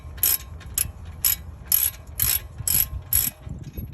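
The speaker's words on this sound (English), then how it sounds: "go ahead and tighten down your 17mm bolts" A hand ratchet tightens the 17mm brake caliper bolts on a 2007 Lexus ES350 during a passenger CV axle job, clicking in about eight quick, evenly spaced bursts, close and clear with no talking.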